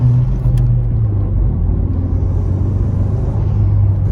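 Turbocharged 2020 Honda Civic Si fitted with a PRL Cobra cold air intake drones steadily at cruise, a loud, continuous low rumble heard from inside the cabin.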